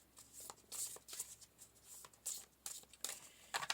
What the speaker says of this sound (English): these cards that I'm shuffling